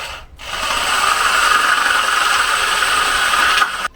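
A drill boring through material, one continuous close whirring grind lasting a few seconds before stopping abruptly, no voices.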